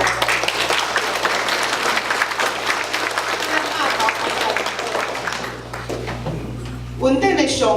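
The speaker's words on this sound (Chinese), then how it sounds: "请咱会当拍手来" Congregation applauding during a Sunday church service at a retreat: dense, steady clapping from a sizable group that slowly thins and fades, followed by a voice speaking briefly at the end.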